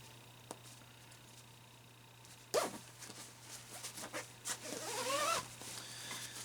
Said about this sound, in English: in colder weather, you can zip this up